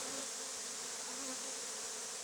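Honey bees at a hive packed full to bursting, a steady dense buzzing drone close to the microphone, continuous and even throughout with no voices.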